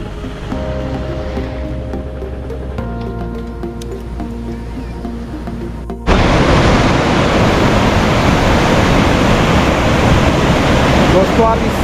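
Loud broadband roar of a rushing river at the Sonmarg water crossing, starting partway through after a stretch of tonal background sound, then continuous and close.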